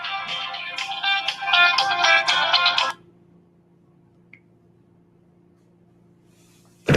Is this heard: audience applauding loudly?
no